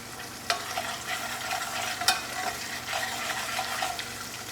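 Butter browning in a pan, frothing and sizzling in a steady close hiss while a utensil stirs it, with a few sharper scrapes and clicks.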